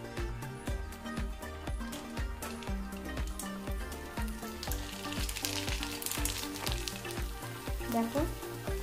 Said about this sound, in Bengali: তো এইভাবে আমি বাকি ফুচকাগুলো ভেজে নেব।